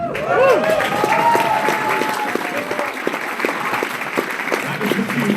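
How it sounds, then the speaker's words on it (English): An audience at a VA panel event breaks into clapping that stays loud and continuous, while a voice sounds briefly over the start of it. "that was the cue for applause"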